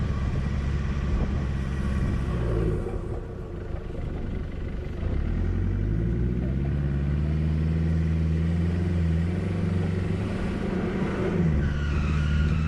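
A 4WD vehicle's drive belt whines while the car climbs a steep mountain track in the Victorian high country. A loud, steady engine drone carries rising and falling whining tones throughout, with no talk.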